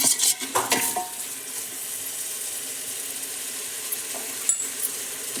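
Spiced food with garam masala and washed rice fries in a pan, a soft continuous sizzle with a few clinks and scrapes of stirring near the start and one later, no voices.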